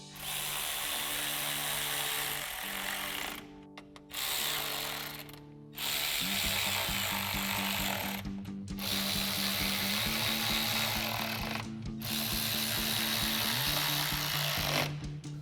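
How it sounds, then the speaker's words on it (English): Power tool buzzing in bursts while driving screws with an 8mm socket during a 2015-2017 Mustang turn signal install, close and steady with several short pauses between runs. "And now we can tighten down all of our screws with our 8mm socket."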